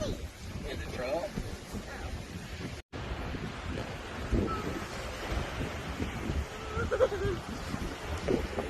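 Strong sea waves surge and crash near a small fishing boat, mixed with heavy wind buffeting the microphone and occasional voices in the background.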